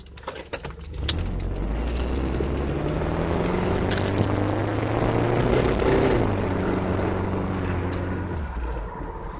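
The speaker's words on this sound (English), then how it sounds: "That little hiss you hear in the background sometimes, vibrating, this is a fairly old car, so it makes noises" An old Volvo car drives at night, giving a steady low engine drone with a faint hiss and vibrating rattle inside the cabin, the hum swelling and easing slightly over several seconds.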